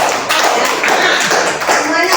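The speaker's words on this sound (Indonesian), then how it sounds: "Tepuk tangan untuk kelompok 1," Classroom participants applaud the presenting groups with a dense, continuous patter of clapping that stays fairly loud and close, with voices mixed in.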